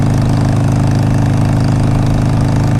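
A 2007 Harley-Davidson 883R motorcycle engine runs steadily at idle, with a loud, close, even low rumble and no talking.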